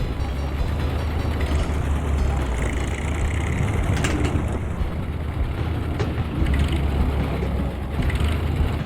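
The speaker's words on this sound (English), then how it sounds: "and then you start revving it." A truck engine in the SnowRunner video game revs with the game volume turned up, producing a continuous broad mechanical roar with rising and falling surges and a few sharp clicks.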